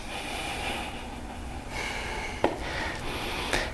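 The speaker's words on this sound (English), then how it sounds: "And calming breaths." Slow, calming breaths during a relaxing yoga session, a continuous soft airy wash of inhales and exhales with a couple of brief nasal snorts, close and without speech.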